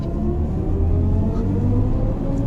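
A BMW i4 electric sports sedan, edrive40 or M50, drives with its synthetic electric sound, a steady low humming rumble, close and continuous, with no talking.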